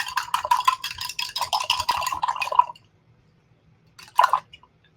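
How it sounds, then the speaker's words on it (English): A paintbrush is swished and rattled in a water pot while painting a tote bag, a close busy splashing for a few seconds, then a pause and a brief second rinse. "I'm going to wash my brush."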